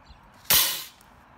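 Air-pressure cannon built to show Newton's third law firing one sharp, loud burst that trails off over a short hiss.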